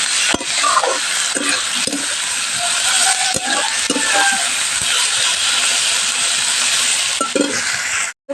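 Spices with salt and turmeric frying in a pan, a steady broadband sizzle with repeated metallic scraping and clinks of a spatula stirring, close and continuous.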